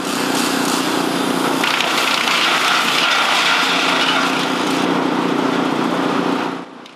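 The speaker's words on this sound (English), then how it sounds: "The tree's branches are cut off and sent to the wood chipper" A wood chipper grinds discarded Christmas tree branches into chips for recycling, a loud, steady mechanical roar running continuously and close before cutting off abruptly near the end.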